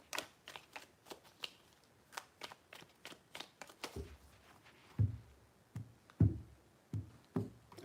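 Tarot cards are shuffled by hand in a quiet room, with a series of crisp riffling bursts and sharper taps as the deck is squared, close and moderately loud.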